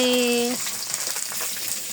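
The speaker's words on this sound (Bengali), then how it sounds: "আমাদের মাছ ভাজা কমপ্লিট, এখন আমরা উঠিয়ে নেব।" Oil crackles and sizzles steadily as fish fries, following a short high electronic tone at the start; no talking.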